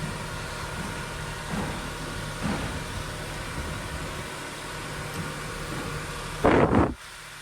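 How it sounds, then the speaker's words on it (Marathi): A Tata 1.2 litre turbo petrol-CNG car idles just after a cold start, a steady low engine hum throughout, with a brief louder burst of noise near the end. "चालते, गाडी कोल्ड स्टार्ट होते"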